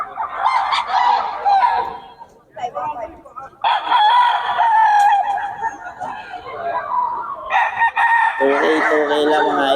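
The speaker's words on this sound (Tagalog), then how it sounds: "Okay lang mga idol ang manok ni Boss Chacha ngayon." Roosters crow repeatedly at close range, several long strained calls following one another over about ten seconds, with faint chatter in the background.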